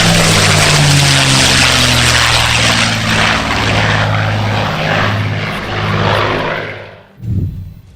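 An F-82 Twin Mustang propeller fighter's engines roar loudly and steadily in flight, with a broad droning buzz that swells slightly before cutting off near the end.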